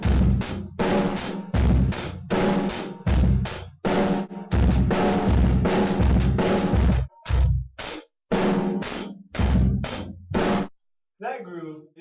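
Basic rock drum groove on a simple drum set, bass drum and snare trading a steady repeating beat with cymbal wash, loud and close, ending with a brief stop and a short voice.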